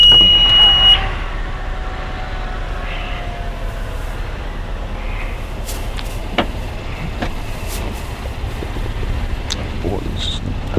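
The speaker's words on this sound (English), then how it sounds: "Power lift gate." The power liftgate of a 2016 Honda Pilot opens with a brief warning beep, then a low, steady motor whir over outdoor wind noise, with a few faint clicks and a voice in the background.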